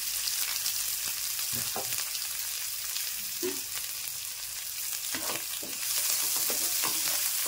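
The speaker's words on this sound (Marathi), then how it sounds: "पहा, कांदा चांगला फ्राय होत आहे." Finely chopped onion fries in a pan with cumin and mustard seeds, giving a steady close sizzle. Occasional light clicks and stirs of a spoon against the pan sound over it, with no talking.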